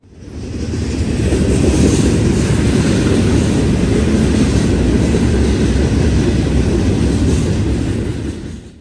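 A Norfolk Southern freight train with an ET44AC locomotive working mid-train rumbles past close by, a loud, steady roar of wheels and engines holding for the whole stretch with faint clatter on top.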